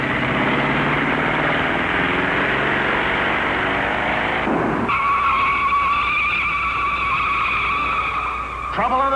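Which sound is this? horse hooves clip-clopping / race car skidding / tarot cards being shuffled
race car skidding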